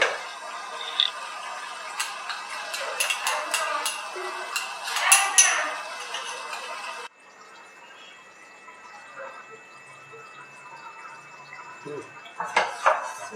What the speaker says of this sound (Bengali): মাংসটা আমি কষছি জল বেরোচ্ছে